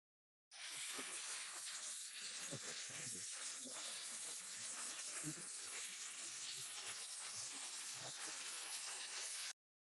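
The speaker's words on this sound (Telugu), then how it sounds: "ఇప్పుడు ఒక హాఫ్ స్పూన్ పసుపు వేసుకొని వేయించుకుందాం." Half a spoon of turmeric fries in a pan with a steady, even sizzling hiss that runs unbroken for about nine seconds and then stops abruptly.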